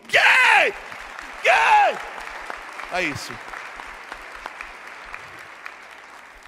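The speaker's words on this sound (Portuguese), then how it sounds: "Pode aplaudir" A congregation claps at a church sermon, filling the room beneath a preacher's voice, which rises in drawn-out sung exclamations over the steady patter of hands.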